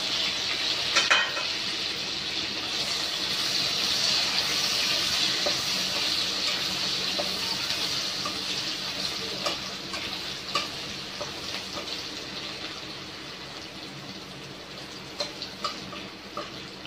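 Garlic frying in a pan with chopped ginger for chilli paneer, a continuous close sizzle with faint crackles and spoon taps that eases slightly toward the end.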